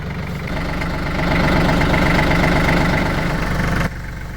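A tractor used for hauling gravel along a homestead driveway idles with a steady, loud, low engine rumble that swells slightly and then drops off sharply near the end.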